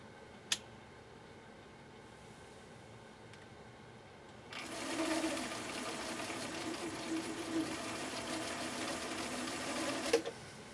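A Viking 6370 sewing machine, freshly restored, starts up after a quiet pause and runs a blind hem stitch for about six seconds with a steady mechanical whir, then stops with a small clunk.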